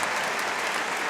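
A brief burst of crowd applause rises in a cesta punta fronton during a match, a steady wash of clapping for about a second.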